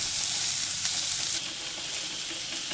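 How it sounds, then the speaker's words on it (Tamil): Tomatoes and onions sautéing in a pan for a village-style paruppu urundai kuzhambu, a dense, steady close-up sizzle and crackle that drops slightly in loudness partway through, with no talking. "இப்போ தக்காளி சேர்த்துக்கணும் தக்காளி நல்லா வதங்கட்டும்"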